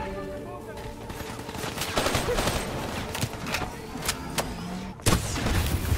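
In a Call of Duty Black Ops 3 firefight, rapid gunshots crack over dense background combat noise, with a sharp louder burst near the end, close and loud.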